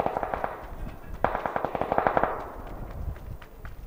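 A PUBG air strike delivers a run of rapid, heavy booming bursts in quick succession that swell in the middle and then trail off.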